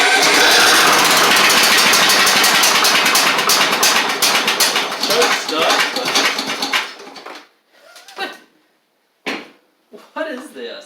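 A Craftsman DYT4000 lawn tractor, left sitting for two and a half years, runs with a loud, dense, rattling engine roar close by, then cuts out abruptly, leaving short bursts of sound, probably talking, in near silence.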